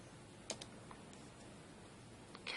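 Keystrokes on a computer keyboard while entering a command at a command prompt, a few sparse, quiet clicks spread out with a small cluster at the end and no talking.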